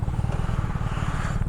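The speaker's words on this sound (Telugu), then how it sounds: "ఓ బాబోయ్ పెద్ద పెద్ద బైక్స్ అని ఇప్పుడు వస్తున్నాయి చిన్నగా." Big motorcycles, including a BMW 1000RR, arrive on an Independence Day group ride in Pune, their engines giving a loud, close, steady low rumble with no talking.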